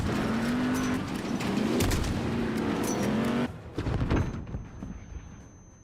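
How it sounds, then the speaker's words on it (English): In Call of Duty: Modern Warfare 2019, a suicide truck roars past with a rising engine drone, mixed with bursts of gunfire and impacts, and then cuts sharply to quieter rumbling and scattered bangs. "Suicide truck, left side, left side!"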